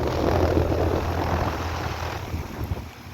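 An American Standard air conditioner unit runs outdoors with a loud, steady whooshing fan roar and low hum, continuous and close, easing slightly near the end.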